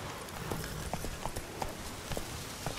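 Hooves of a horse clip-clopping at a quick, steady gait in the fantasy game The Witcher 3, the regular beats standing out over a constant ambient wash.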